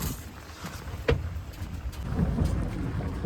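Rain falls in a village setting with a steady, hissing wash, while a low thunder rumble builds through the second half.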